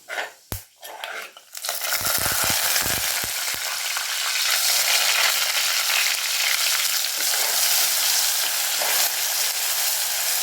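Ground shallots hit hot oil with fenugreek seeds, setting off a loud, steady sizzle that fills the clip after a few brief clatters at the start.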